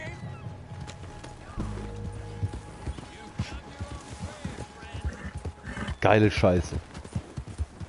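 Rhythmic hoof clip-clops of a horse in the video game Red Dead Redemption 2 moving at a steady pace, with German voices talking over it and a brief louder burst near the end.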